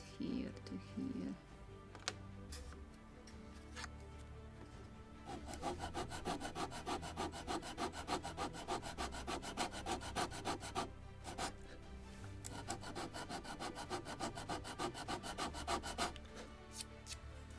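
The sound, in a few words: sanding the wooden deck of a model ship kit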